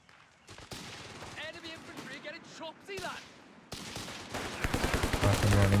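Machine-gun fire in Company of Heroes 3 rattles in dense, sustained bursts, growing louder and heavier toward the end, beneath battlefield effects and a commentator's talk.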